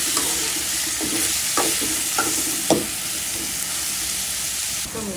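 Small kachki fish frying in hot oil with salt, giving a steady close sizzle broken by several sharp scraping stirs of a spatula against the pan.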